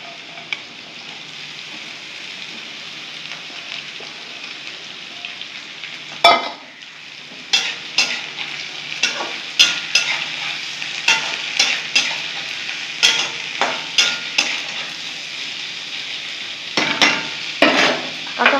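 Finely chopped papaya and potato hit hot spiced oil in a pan, a steady frying hiss followed by quickening clacks and scrapes of a spatula stirring, close and clear with no talking.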